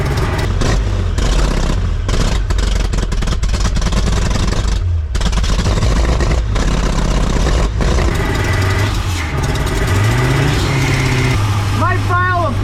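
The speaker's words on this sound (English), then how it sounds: "we're gonna rev her up" Engine of a roughly 1978 Ford F-350 pickup under revival with a carburetor and choke, rumbling loudly and rising in revs throughout, with voices talking over it.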